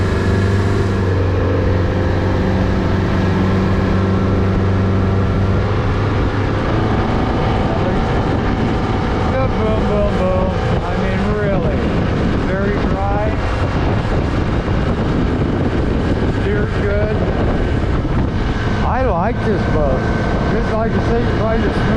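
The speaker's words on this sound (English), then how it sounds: "probably the smoothest, quiet, open boat I've been in" A 2025 Hewescraft 22 Pioneer open boat with an electric-steer tiller outboard runs across the water, giving a steady, smooth engine and hull drone throughout while someone talks over it.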